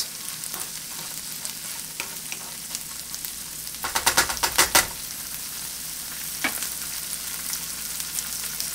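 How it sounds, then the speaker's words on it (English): Stir-fry sizzles steadily in a hot pan while a utensil scrapes and clacks through it in a brief cluster of rapid strokes and a few lone knocks, close and without talking. "while it fries, you stir it"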